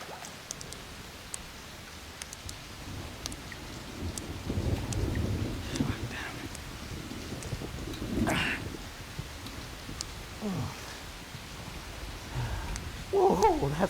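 Heavy rain with thunder in a movie scene, a steady hiss of rainfall with several deep rumbles and cracks of thunder rolling through, moderately loud.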